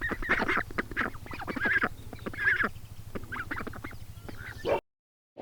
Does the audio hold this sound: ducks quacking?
yes